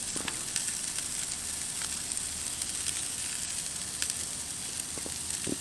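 Skirt steak and flanken-style ribs on an Old Country BBQ Pits tabletop grill give a steady, close sizzle with faint scattered pops and crackles, no talking.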